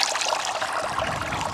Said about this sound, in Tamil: தண்ணி மேலே வந்துக்கிட்டே இருக்கு